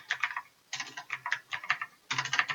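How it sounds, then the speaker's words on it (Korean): Slow keyboard typing, hunt-and-peck style, in irregular bursts of quick, close clicks, separated by short pauses; no voices. "제가 키보드 타자가 좀 느려요"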